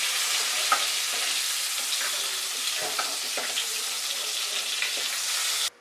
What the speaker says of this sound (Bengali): হলুদ লবণের সাথে পটলটা আমি খুব সুন্দর করে ভেজে নিয়েছি।